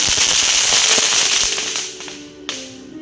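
Diwali firecrackers burst in a rapid crackling volley of loud pops that thins out, followed by one sharp, isolated crack nearby.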